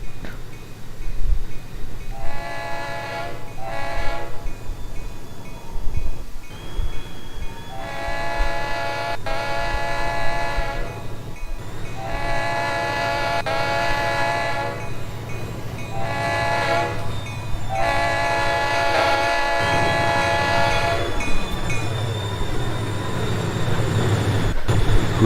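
Trainz video game train passing by, a California Zephyr run-by: repeated long horn blasts in chords over a steady rumble of rolling wheels, loud and continuous across the whole stretch.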